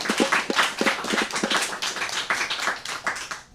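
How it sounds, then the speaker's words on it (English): Audience applause for live bluegrass musicians on a radio station stage, a small crowd clapping in a brisk, uneven patter that holds steady and fades at the end. "Let's give them another round of applause."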